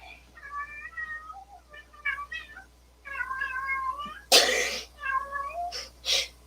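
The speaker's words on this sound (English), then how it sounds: "That is one of my cats." A pet cat meows repeatedly during a quiet yoga session, several drawn-out, wavering calls close to the microphone, with a short sneeze-like burst partway through.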